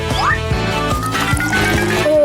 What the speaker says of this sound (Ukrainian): Бабуся наливає гарячий шоколад у фірмовий кухоль.